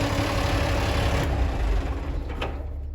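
An old International engine with rattly valves idles steadily and close by, a dense low rumble with a faint ticking clatter running through it and no voices.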